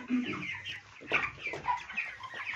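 White chickens cluck busily while being fed potatoes, bread and wheat grain, with several overlapping clucks and calls close by and no one talking.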